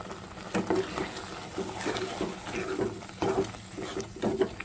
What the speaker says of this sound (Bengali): এখন নাড়াচাড়া দিয়ে মিশিয়ে নিচ্ছি